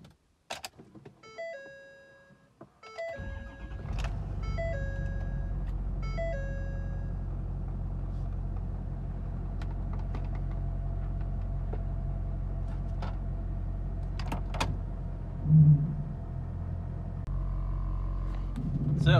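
A 6.7 truck engine idles as a steady, close, low rumble that begins after a few electronic chime tones and runs evenly to the end, with no talking.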